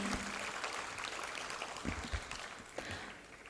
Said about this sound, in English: I would like to request everyone to give a huge round of applause for Mr.